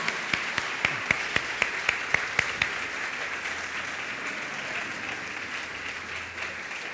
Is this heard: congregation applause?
yes